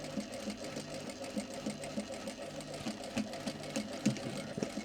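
A sewing machine stitching shorts fabric, running in short back-and-forth bursts of steady mechanical whirring with a faint rhythmic knock, close and moderately loud, with no talking.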